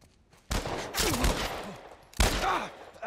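Gunfire in The Last of Us sounds in three loud close bursts, each a sharp crack with a trailing rattle, while someone talks between and over the shots.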